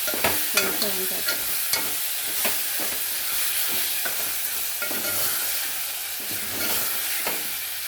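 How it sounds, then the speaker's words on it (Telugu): Vegetables with garlic and green chillies stir-fried in a hot pan, a steady close sizzle broken by repeated scraping and clacking of a spatula against the pan, with no voices. "అన్నీ వేసి ఇట్లా గోలిస్తుంది, ఫ్రై చేసుకుంటుంది."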